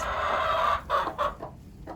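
A broody hen clucks loudly nearby, a drawn-out squawk followed by several short, choppy clucks in quick succession, with no talking.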